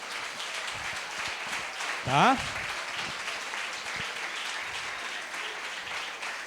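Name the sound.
audience applause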